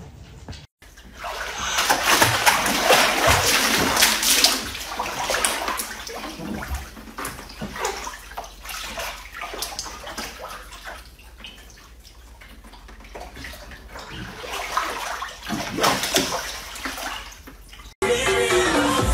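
Water gushes steadily into a bathtub for a long stretch, splashing and churning loudly with some swells and dips, breaking off near the end.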